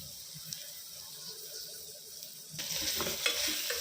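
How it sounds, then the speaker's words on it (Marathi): Ingredients for a Khandeshi khichadi and kadhi being sautéed and stirred in a pan, a soft steady sizzle with faint scraping that grows louder and busier partway through, no talking. "आता या सर्वांना परतून घ्यायचे"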